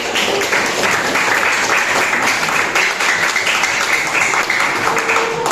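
Classmates in a Grade 12 high school classroom give a sustained round of applause, dense even clapping from many hands filling the room at steady loudness throughout.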